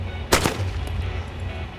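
A single sharp gunshot cracks loud and close in the Arma 2 DayZ mod, followed by a quick second report and a short decaying tail over low background noise.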